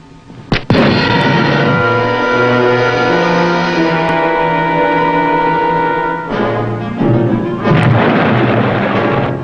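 A submarine torpedo firing followed by an explosion in a World War II film, a sudden loud blast opening a long roaring rumble that fades, then swells again near the end, no talking.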